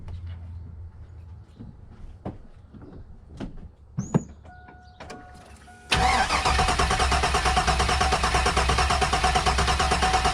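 A car engine with a misfiring cylinder cranks and catches after some clicks and shuffling, then settles into a loud, steady running roar that holds to the end.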